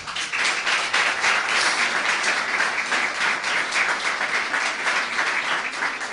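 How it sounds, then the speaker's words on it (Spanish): Sustained audience applause at a folk music concert, dense and loud clapping that holds steady throughout without any talk over it. "Un aplauso, por favor."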